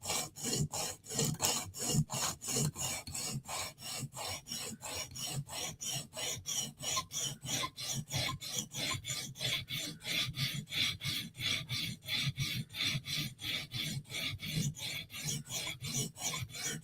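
A Spyderco knife being sharpened on a coarse 120 grit stone makes a steady run of close, rasping strokes in an even back-and-forth rhythm that continues throughout, with no talking.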